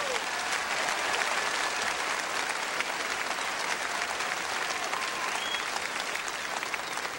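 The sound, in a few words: audience applause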